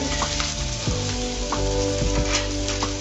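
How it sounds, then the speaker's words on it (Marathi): Potato frying in a pan with coriander powder, garam masala and salt, stirred for a vegetable filling; steady close sizzle with several spatula scrapes at intervals, no talk. "थोडासा गरम मसाला, चवीपुरते मीठ ह्यामध्ये टाकून आपण हे चांगलं हलवून घेणार आहोत।"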